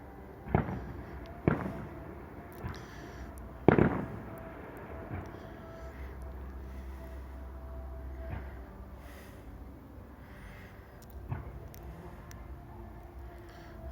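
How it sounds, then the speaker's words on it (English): Guy Fawkes night fireworks near Rolleston, Christchurch, New Zealand, with a few distant sharp bangs and booms spaced irregularly over a low background hum, mostly faint. "5 minutes of fireworks."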